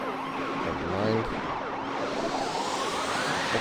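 Wailing sirens in the Beach Buggy Racing 2 racing game, a steady layered electronic siren sweep running the whole time over game engine noise.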